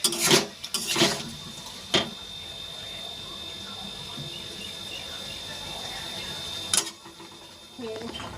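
Spices sauté in a pot, a soft continuous sizzle marked by several loud clanks of a spoon against the metal near the start and again later.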